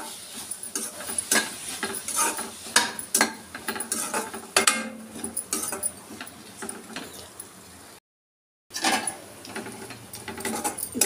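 Tomatoes cook in oil while a spoon stirs them in a metal pan, producing irregular scraping clinks and knocks over a faint sizzle, with a short silent gap near the end.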